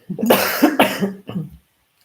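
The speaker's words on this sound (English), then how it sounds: "Lifelong cough, I think." Three harsh coughs in quick succession, close and fairly loud, with no talking around them.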